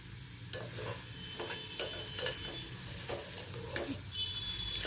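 Ingredients for beetroot pulao sauté quietly in a pan, a soft continuous sizzle broken by regular light scrapes of a spoon stirring, fairly faint and with no talking.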